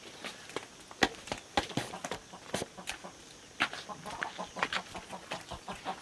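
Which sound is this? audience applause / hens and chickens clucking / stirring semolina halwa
hens and chickens clucking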